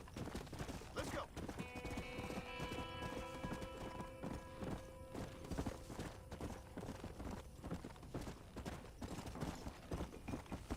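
Galloping horse hooves in the Red Dead Redemption video game, a steady rapid clip-clop running throughout at close range, with bursts of distant gunfire and faint voices mixed in over a busy game backdrop.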